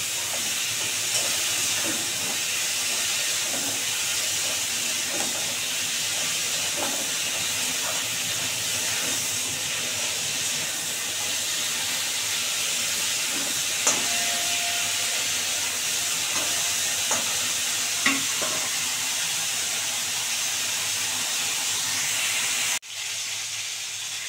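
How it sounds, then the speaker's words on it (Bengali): Cauliflower pieces fry with a little turmeric in a pan until reddened, producing a loud, steady hiss of hot oil that runs unbroken, flecked with faint crackles. "দিয়ে একটু ভালো করে সুন্দর করে ভেজে নেবো, লাল করে, একদম লাল করে কফিটা ভেজে নেব।"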